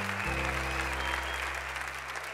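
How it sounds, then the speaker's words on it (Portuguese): Studio audience applause on a Brazilian TV singing competition with 99 judges, a dense, loud wash of clapping that swells in right away and holds steady to the end. "Vem cá pra galera te ver, pra galera te aplaudir, ó."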